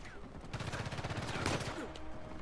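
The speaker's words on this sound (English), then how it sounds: "He's a heavily armored guy, and he's shooting the hell out of me." A heavily armored enemy fires automatic weapons in Uncharted 4: A Thief's End. Rapid bursts rattle at moderate distance, layered into continuous crackling combat noise.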